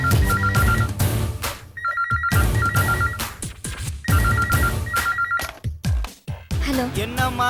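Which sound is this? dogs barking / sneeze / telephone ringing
telephone ringing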